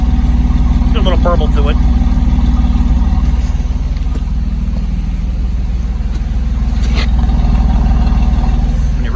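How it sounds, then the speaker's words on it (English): A Pontiac OHC Sprint 6 engine idles steadily with a low, even exhaust drone, heard outdoors in the rain, and someone speaks briefly over it. "Let's see if I can get the exhaust sound."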